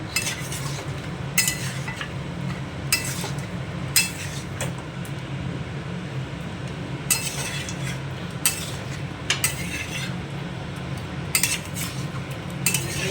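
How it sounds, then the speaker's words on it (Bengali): Mutton curry stirred in a pot, with rhythmic spoon scrapes and clinks against the metal every second or so over a low simmering sizzle, close and clear. "মাংসটা আবার নেড়ে নিচ্ছি।"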